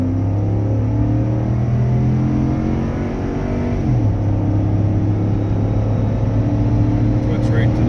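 A Ford pickup truck engine at full throttle with traction control off: a loud, steady droning roar that climbs in pitch, drops briefly at a gear change midway, then keeps pulling hard.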